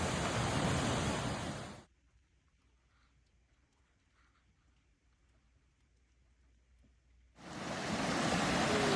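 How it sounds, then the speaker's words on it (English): A swollen creek roars through winter rain in the Santa Cruz Mountains: a loud, close wall of rushing water that drops away to near quiet for several seconds, then surges back just as strongly. "The creek is roaring."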